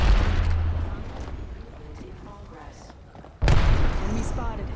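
Gunfire in a video game: a dense, rumbling spell of shots and booms that thins out, then a sharp loud burst near the end, with game voices speaking over the action.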